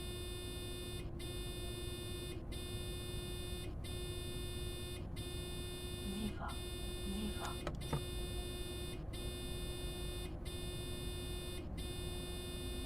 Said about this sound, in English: This sounds like an LZB end beep.